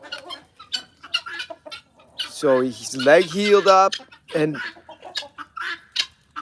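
Hens and a rooster cluck in a backyard flock during breakfast feeding, with short bursts of clucking scattered throughout and a louder, sustained crowing-like call in the middle, while a person talks over the birds.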